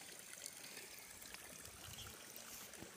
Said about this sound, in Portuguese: Aqui tem um tanquinho também onde verte a água